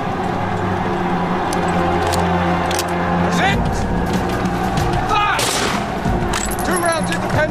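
Dramatized volley fire from British soldiers' rifles against advancing Zulus, heard as repeated sharp cracks and booms over a dense battle soundscape with music or crowd noise, loud and continuous throughout.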